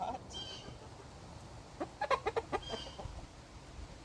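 A chicken gives a short alarm call, a quick run of sharp clucks close by in a quiet farmyard. Faint rustling is heard before and after.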